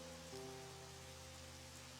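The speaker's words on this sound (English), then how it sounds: "Today, it's raining." Heavy rain with huge drops splattering on the ground near the sea, a dense steady hiss under a low sustained tone.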